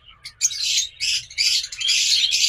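Pet lovebirds in a cage, including an olive-yellow breeding pair, give loud, close, high-pitched chirps and squawks in several rapid bursts with brief pauses between.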